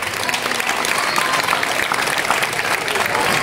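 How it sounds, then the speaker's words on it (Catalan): A crowd at a casting event for a Cucafera festival princess and knight claps loudly and steadily for the first candidate, a seven-year-old boy, with a few cheers mixed into the sustained applause. "Donem un fort aplaudiment al primer candidat"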